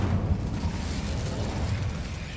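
A fire spell cast in a wizard video game bursts out as a loud, rumbling whoosh of flame, dense low roar sustained throughout with no voices over it.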